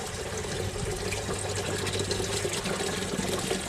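Water poured steadily from a jug into a container, a 10-litre fill for a car audio installation in a Mercedes CLK, making a continuous close splashing rush with no talk.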